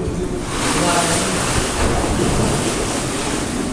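Sea waves at night around swimmers, a loud, continuous wash of surf with wind buffeting the microphone and people talking.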